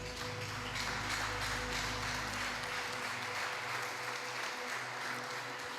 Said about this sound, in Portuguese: Aplauda um pouco a Jesus.